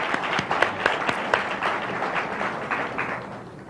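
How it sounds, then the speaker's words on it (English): A large audience at a women's expo in a Chicago convention hall bursts into sustained applause, a dense wash of many hands clapping steadily throughout with occasional sharper claps standing out. "please give her a big round of applause"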